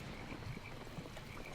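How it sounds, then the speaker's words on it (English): Frog croaks from the video game Albion Online, a few soft scattered calls low in a steady ambient game soundscape, with no talking. "Okay, here's some frogs."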